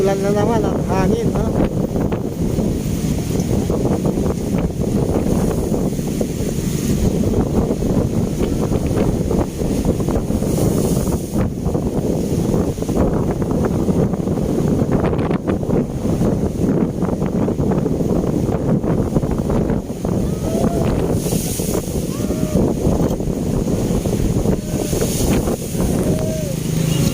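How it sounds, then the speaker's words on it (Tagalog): Steady heavy wind buffeting the microphone with a constant roar at the Manila Bay seawall, rain and rough noise underneath, and a voice talking through it. "napapansin natin na may ulan na naman at hangin"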